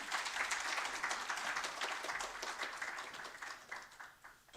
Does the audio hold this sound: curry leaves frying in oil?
no